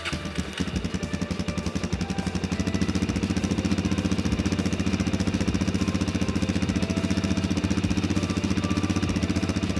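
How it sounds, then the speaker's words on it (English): A Suzuki DRZ400 motorcycle engine cranks and catches after repair work, then settles into a steady, throbbing idle with a regular low pulse, close by. "The bike starting up and idling for 30 seconds"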